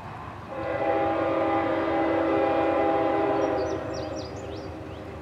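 A CSX mixed freight train passes at Point of Rocks, Maryland, sounding a loud, sustained horn blast with a steady rumble of wheels underneath, then fading as high squeals and chirps rise near the end.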